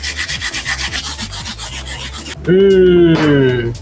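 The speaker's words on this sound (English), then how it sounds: "What I'm about to do now is go in with the wire bristle brush and start scrubbing." A wire bristle brush scrubs the sole of a Yeezy 350 Boost sneaker in fast, rhythmic back-and-forth strokes, close and loud, then gives way to a sudden squeaky, tonal rubbing screech.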